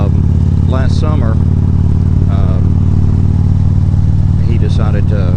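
A Harley-Davidson motorcycle engine throbs steadily and loudly while riding, a constant deep low-pitched rumble beneath a voice talking over it.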